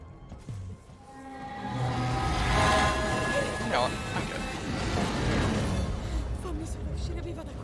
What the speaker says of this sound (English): That tram always lasts so much longer than I expect it to.